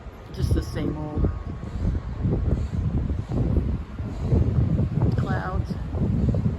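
Strong wind blows outdoors, buffeting the microphone in a steady rough roar with gusts, while a voice talks and wind chimes tinkle faintly now and then.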